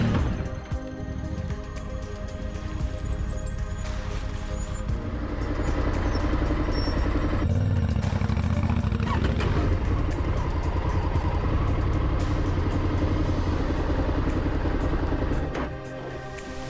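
A maxi trail motorcycle rides off-road in Occitanie over stones that grow larger, its engine droning steadily while rocks clatter and knock under the tyres and the bike is jostled side to side.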